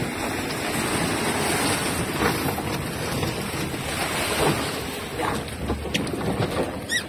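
A new motorboat runs at sea on a test drive in choppy waves under a northeast wind, with steady engine drone, water rushing and splashing, and gusting wind buffeting the microphone.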